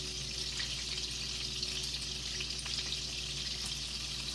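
Homemade meatballs sizzle and crackle in hot frying oil, a dense steady hiss close by with scattered pops throughout and no talking.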